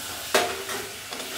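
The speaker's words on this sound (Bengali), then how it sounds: "এরপরে মা এখানে দিয়ে দিচ্ছে ভেজে রাখা কুমড়ো আর আলু" Fried pumpkin and potato tipped into a pan of cooked spices and stirred, a sharp scrape at the start followed by softer sizzling and a few light stirring knocks.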